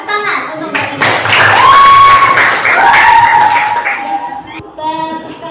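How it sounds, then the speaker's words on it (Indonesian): Classroom students clap for a classmate after a group presentation, a burst of applause with children's voices and cheering over it that swells, holds for a few seconds, then tapers off. "Tepuk tangan untuk Mbak Ina."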